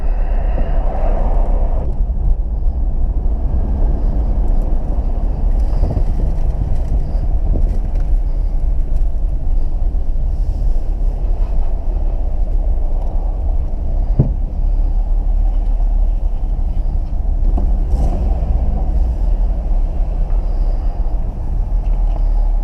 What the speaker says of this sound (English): these tires are a little bit out of balance, but shaky